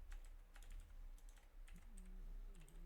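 Fingers type a name on a computer keyboard in a quiet room, a quick run of soft close key taps in small bursts over a low background hum.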